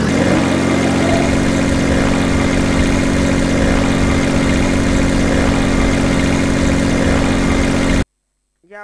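A machine engine in overdrive mode in Garry's Mod SpaceBuild drones loud and steady, a dense continuous roar that holds unchanged for about eight seconds and then cuts off abruptly.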